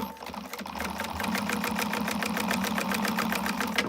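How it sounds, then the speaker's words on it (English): A sewing machine bastes fabric at an angle while stitching a wristlet, running steadily with a rapid, even mechanical chatter of stitches close by, with no speech. "you are going to sew a little bit at an angle when you baste"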